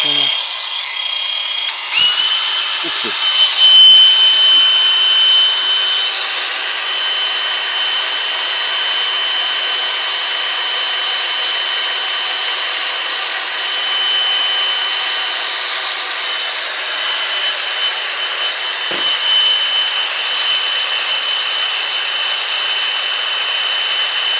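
Cordless angle grinders from DeWALT, Milwaukee and Chuang run at full speed with no load, giving a loud, steady high-pitched whine that holds nearly unchanged throughout, with a few faint knocks and no talking.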